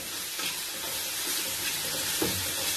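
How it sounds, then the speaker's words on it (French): Garlic and ginger, half a head of garlic and about 30 grams of ginger, fry in oil for a Réunion vegetable achard, giving a steady close sizzle with a few stirring scrapes and no talk. "Vous faites ce qu'on appelle ici à La Réunion roussir un peu vos épices"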